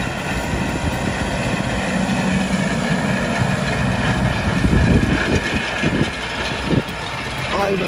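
A tractor with thin wheels drives across a field being prepared for cotton planting, its engine droning steadily and fairly loud throughout, with a slight surge near the middle.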